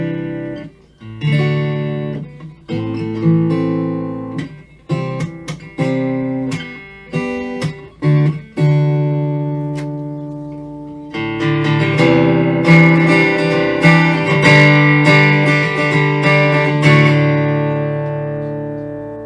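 Electric guitar played dry through a Fender Acoustasonic 40 amp, with plucked notes and strummed chords ringing out clearly and loud, growing denser and fuller in the second half, with no talking.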